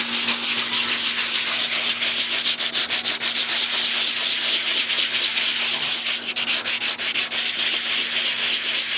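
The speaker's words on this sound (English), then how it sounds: "Using 80 grit to sand it down." Steady, continuous rasping of 80-grit sandpaper on Bondo body filler on a Nissan 300ZX body panel, a close, loud scrubbing that runs without a break and has faint rhythmic strokes.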